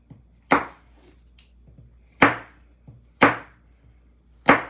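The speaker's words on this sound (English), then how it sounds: "I'm chopping my apple." An apple is chopped with a knife on a cutting board, four sharp, close knocks spaced unevenly over a few seconds, with faint background noise between.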